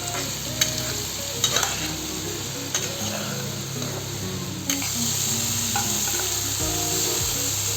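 Potatoes and prawns stirred with spices in hot oil for Bengali alu chingri, a spatula scraping and clattering repeatedly against the pan over continuous sizzling.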